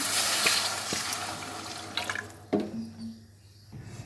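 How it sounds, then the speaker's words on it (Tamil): Water pours and splashes steadily into a cooking pot, then tapers off into a few drips and quiet. "தேவையான அளவுக்கு தண்ணி ஊற்றிக்கலாம்"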